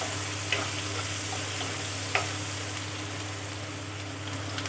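Chopped onions fry gently in oil with a bay leaf and dried chilli for an Assamese egg curry, a soft, even sizzle with a couple of faint utensil ticks over a low steady hum.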